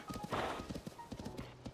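Horse hooves clip-clop in a steady trot in the Zelda: Tears of the Kingdom video game, close and clear, with a brief whinny mixed in and no talking.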